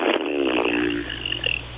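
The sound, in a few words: Bronx cheer, tongue-out fart noise imitation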